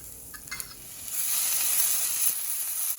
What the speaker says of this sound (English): Now we can add ginger, green chili and turmeric and fry for another minute.